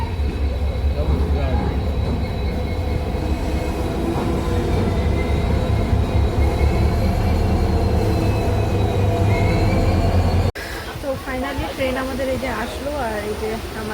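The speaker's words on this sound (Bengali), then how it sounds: "এই যে কোন ট্রেন ঢুকলো" A train rolls into a railway station platform, a loud steady rumble of wheels and carriage noise with faint squealing, continuing for about ten seconds before cutting to quieter station ambience.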